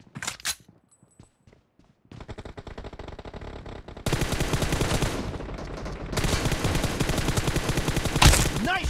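Gunfire in the mobile game PUBG Mobile starts with a few single shots and short bursts, then breaks into loud, sustained automatic fire that goes on in dense rapid volleys, heard close and with no gaps.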